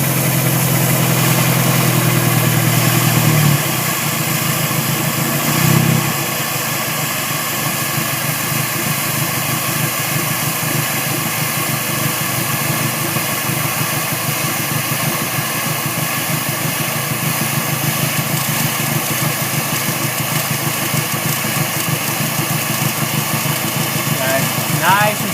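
A car engine idles steadily and close by while Sea Foam cleaner is slowly poured into it, a faint rattle in the background; a louder low drone in the first few seconds drops away, and the idle continues evenly under someone talking.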